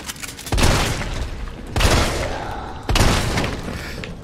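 Magnum and grenade launcher fire in the Resident Evil 3 Remake video game: three loud, heavy booming blasts about a second and a quarter apart, each fading in a long rumbling tail.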